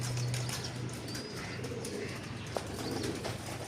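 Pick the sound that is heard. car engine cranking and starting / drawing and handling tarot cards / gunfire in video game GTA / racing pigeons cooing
racing pigeons cooing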